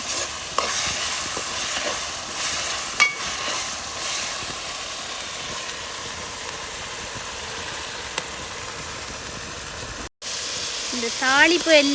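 Spices, chillies and onions fry in hot oil as a tempering for crab curry, giving a steady sizzle with occasional stirring clatter, continuous and close, and a voice speaks over it.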